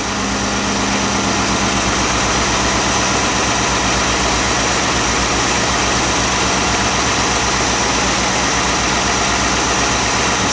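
A car engine idles steadily during a battery and charging-system test, a constant close, loud drone with no talk.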